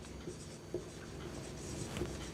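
Writing a word in a Class 2 English lesson, a steady scratch of writing lasting a couple of seconds under a faint room hum, with no speech.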